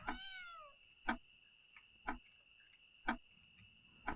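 A cat meows once in a drawn-out falling call while being petted in a video game, followed by three evenly spaced soft clicks about a second apart, with a steady faint hum underneath.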